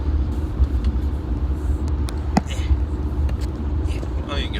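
A transport truck rolls along the road with a continuous low engine rumble and road noise, heard from inside, with a few faint clicks and a brief knock.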